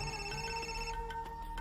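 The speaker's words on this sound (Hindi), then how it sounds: "ये शेखर फोन कर रहा है।" A phone's incoming-call ringtone plays steady sustained electronic tones, cutting off partway and followed by a few short chirps, moderately loud and alone.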